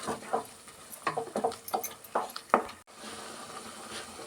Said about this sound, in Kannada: ಶುಂಠಿ, ಬೆಳ್ಳುಳ್ಳಿ, ಹಸಿಮೆಣಸಿನ್ಕಾಯಿ ಎಲ್ಲ ಹಸಿದು ಹಾಕಿದ್ವಲ್ಲ, ಅದರಿಂದ ಈ ಥರ ಸ್ವಲ್ಪ ಫ್ರೈ ಮಾಡ್ಕೊಳ್ಳೋಣ